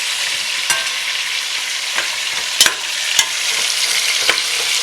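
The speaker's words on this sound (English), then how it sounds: "Get a nice sear. I'm just going to kind of toss this lamb just to get it coated on all sides." Lamb searing in a stew pot for Irish lamb stew, a steady close sizzle broken by a few sharp scrapes and clatters as the meat is tossed, with no voices.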